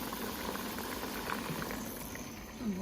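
Pork frying in a pan, a steady close bubbling sizzle with a dense crackle that carries on throughout at low volume, with a faint voice briefly heard near the end.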